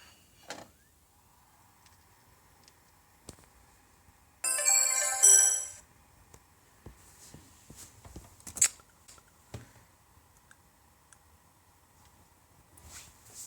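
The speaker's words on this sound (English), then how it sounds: "I set the speaker volume of the boot sound at the maximum." An ASUS M50V laptop BIOS boot sound at maximum speaker volume: a short burst of electronic chime tones, about a second long, amid faint clicks and small mechanical taps in a quiet room.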